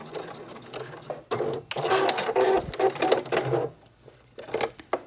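A sewing machine stitches swim fabric for a scrunchie in two close, rapid whirring runs separated by a brief pause, with a faint mechanical clatter at the end.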